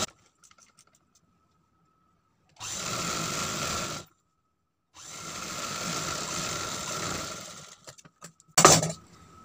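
A sewing machine stitches a folded sleeve strip in two bursts of rapid, steady whirring chatter, separated by a pause, followed by a short sharp clack near the end.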